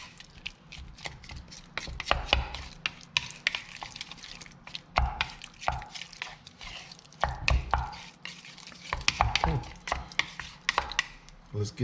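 A paper-based rock mix for a model railway layout is stirred in a container, giving irregular wet scraping and clacking strokes that come in close, uneven bursts, with no talking.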